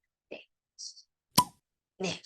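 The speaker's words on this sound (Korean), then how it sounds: "공을 좀 빵 치는 소리 같이 들려서 병뚜껑 따는 소리를 클릭했고요." A bottle-cap opening sound effect gives one sharp, bright pop amid a few other short, quiet blips in otherwise near-silent surroundings.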